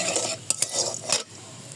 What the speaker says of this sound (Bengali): এখানে তেল দিয়ে দিচ্ছি কড়াইতে, এলাচ দারচিনি দিয়ে দিলাম।